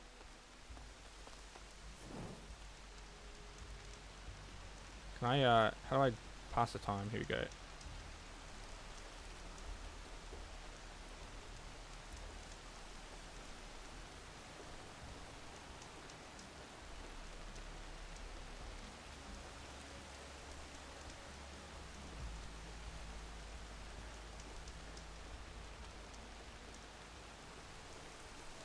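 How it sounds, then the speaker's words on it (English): Soft, steady rain patter in the video game Horizon Forbidden West, faint and continuous, with a brief musical chime partway through and someone talking quietly. "Is it just gonna rain the whole time?"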